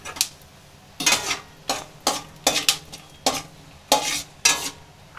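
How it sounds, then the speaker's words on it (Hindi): Dry fruits roasting in desi ghee in a kadhai, heard as a series of distinct stirring scrapes and clinks of a spoon against the pan over a soft sizzle, about eight bursts in quick succession. "पहले हम कढ़ाई के अंदर देसी घी डाल देंगे 2 चम्मच, क्योंकि जो ड्राई फ्रूट लिया वो हमें थोड़ी सी रोस्ट करनी है"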